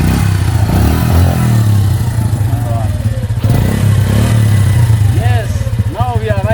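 Motorcycle engine running loud and close as riders set off on a new bike, a rough continuous drone with rising revs, mixed with voices and clatter throughout.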